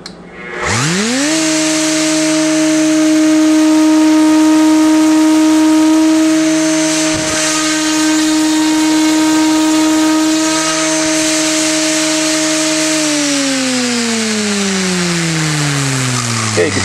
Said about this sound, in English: millimeter blades running at 9400 RPM, which equates to 2000 RPM head speed